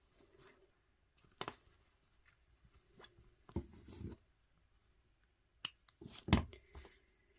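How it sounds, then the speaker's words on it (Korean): Scissors snip yarn while a crocheted tea cup coaster is being finished, a few sharp isolated cuts with handling rustles between them, quiet and close with near-silent pauses. "실을 잘라 줄게요."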